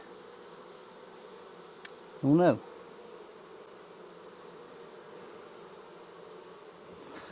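Steady low buzzing of many bees fills the background, with one brief short word spoken close by partway through.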